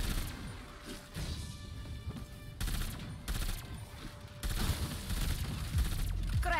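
Gunfire in the video game Forsaken, rendered as repeated bursts of rapid shots and crashing impacts in several dense clusters, fairly quiet overall with brief gaps between volleys.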